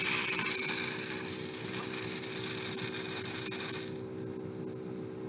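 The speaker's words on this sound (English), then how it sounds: "Alright, so I'm just going to drill that." A Dremel rotary tool drills a hole through a necklace piece, giving a steady, close, high-pitched grinding whine that runs continuously and drops in level toward the end as the bit breaks through or eases off.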